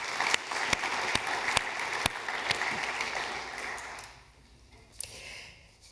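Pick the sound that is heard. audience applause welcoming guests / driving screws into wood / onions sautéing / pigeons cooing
audience applause welcoming guests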